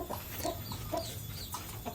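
Chickens cluck softly and repeatedly nearby, with scattered short calls over a faint farmyard background, during morning feeding.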